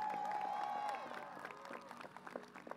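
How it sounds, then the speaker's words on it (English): Commencement audience at a high school graduation breaks into applause for a teacher, a broad wash of clapping from a large crowd that fades somewhat as it continues, with a voice faintly heard at the start. "Round of applause for Mr. Mason."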